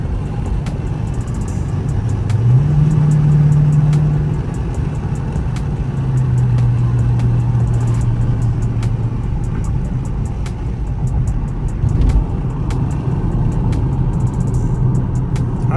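A Dodge Charger RT with its mid muffler and resonator deleted drones deeply from inside the cabin on a highway, with a loud rising pull early on and then steady cruising rumble.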